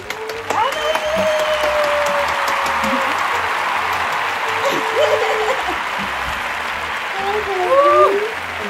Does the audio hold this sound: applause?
yes